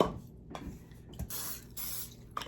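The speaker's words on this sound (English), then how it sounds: "pie with some nonstick spray." Nonstick cooking spray hisses into a small Dash Mini Pie Maker in two short bursts, close and fairly quiet, with faint clicks from the can between them.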